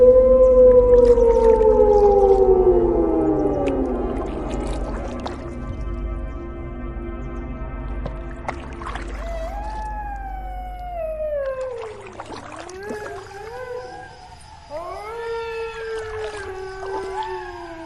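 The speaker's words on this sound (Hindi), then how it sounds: "ये सियार कितनी डरावनी आवाज में चिल्ला रहे हैं" Several jackals howl in long, wavering, falling cries that overlap and repeat, loud and eerie, with no talking.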